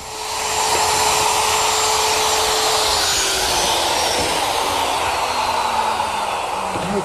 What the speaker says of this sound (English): Now to drill the holes, I'm actually going to use a router